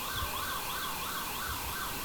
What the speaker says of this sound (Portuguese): a ambulância.